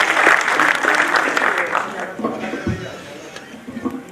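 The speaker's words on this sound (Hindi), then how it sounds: "जोरदार तालियों के साथ आपका प्रिय कवि सौरभ कांत।" An audience at a Hindi poetry gathering applauds a poet, with loud, dense clapping that holds steady and then thins out near the end.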